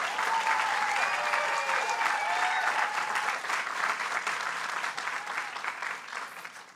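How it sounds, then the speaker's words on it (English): Sustained applause from a rally crowd at a Drive for $15 living-wage event in Albany, dense and steady with a few whistles rising through it early on, easing slightly toward the end. "Clap."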